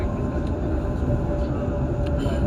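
Steady low rumble and hum of a Sydney Bankstown Line train in motion, heard from inside the carriage, continuous and fairly loud with faint high whine.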